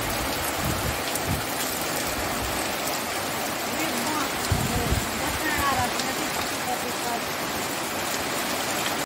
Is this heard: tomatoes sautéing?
no